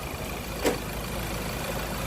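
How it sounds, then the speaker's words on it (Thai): A Mazda BT-50 Pro pickup engine idling after its EGR system was removed, a faint steady low drone with a single brief knock early on. "น้าเครื่องยนต์ก็สตาร์ทเป็นที่เรียบร้อยแล้ว"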